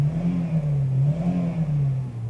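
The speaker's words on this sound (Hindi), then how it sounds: "और मैं गाड़ी को कर लेता हूँ स्टार्ट। हम गाड़ी की स्टार्टिंग भी चेक करते हैं।" A 2010 Toyota Corolla GLi petrol engine just after starting, settling into a steady low idle hum with slight rises in revs, close and fairly loud.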